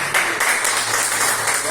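A church congregation claps during a Sunday family service, a short burst of steady, fairly loud applause filling the room.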